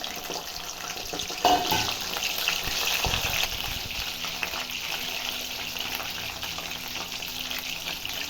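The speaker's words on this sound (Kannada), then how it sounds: "ಇನ್ನೊಂದು ಸರಿ ಬೇಯಿಸ್ಕೊಳಕ್ಕೆ ಹಾಕ್ತಾಯಿದ್ದೀನಿ ಎರಡು ಸರಿ ಕಬಾಬು ಬೇಯಿಸ್ಕೊಬೇಕು" Chicken kebabs frying in a pan, a second batch going in, give a steady close sizzle with a brief clatter of handling near the start.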